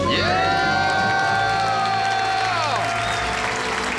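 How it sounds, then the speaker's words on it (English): A debt-free scream at a live finance call-in show, followed by loud cheering, whoops and applause from a crowd that run steadily through the whole stretch, with shouting voices layered on top. "Let's hear a debt-free scream."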